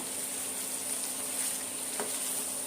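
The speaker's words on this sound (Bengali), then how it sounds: "আলু দিয়ে দিয়েছি, ভেজে রাখা আলুটা" Pre-fried potatoes go into a simmering desi chicken curry and fry with a steady, moderate sizzle in hot oil. A brief stir or clink comes near the end. No one speaks.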